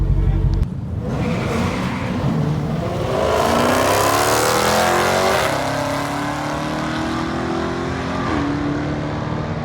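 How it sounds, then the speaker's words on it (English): A rebuilt Dodge Hellcat launches at a drag race: a loud, close engine roar surges up after a brief start, rising in pitch as the car accelerates, then holds a steady, powerful drone. "it's my first time launching the Hellcat, so we'll see how it goes"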